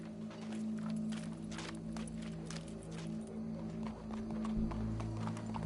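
Steady clip-clop of horse hooves walking at an even pace, fairly close, over a constant low hum of background noise, from the video game Red Dead Redemption 2.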